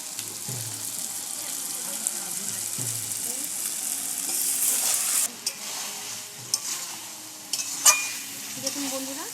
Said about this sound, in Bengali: চিকেন দেওয়ার পরে আমি বেশ কিছুক্ষণ কষিয়ে নিয়েছি